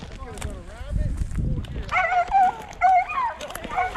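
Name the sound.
hunting dogs whimpering and yipping after rabbit hunt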